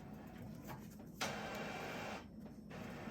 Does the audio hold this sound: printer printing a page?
yes